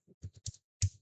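Several quick keystrokes on a computer keyboard, four short clicks and then a louder final tap, heard close and alone without any talk.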